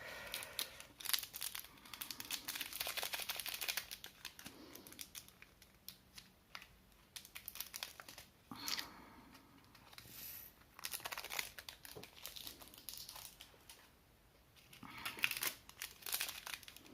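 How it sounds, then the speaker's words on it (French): Paper being cut with scissors while preparing a diamond painting kit, a close run of crisp snips and crinkling rustles that rises and falls over the whole stretch, with brief pauses between cutting passes. "Pour le ciseau, on coupe."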